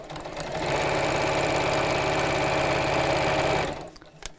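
A sewing machine runs steadily, stitching fabric for a fairy house reading cushion cover, its rapid even needle rhythm loud and close for about three seconds before stopping.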